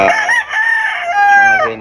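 A hen crows loudly and close by, one long drawn-out cock-a-doodle-doo with a wavering, strained tone, alone with no talk.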